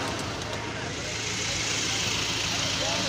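A car engine idles nearby as a low, steady rumble that holds even throughout, mixed with voices talking.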